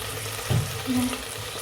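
Onion, garlic, tomato, potato and curry leaves fry for khichdi, giving a steady close sizzle with a couple of brief stirring bumps.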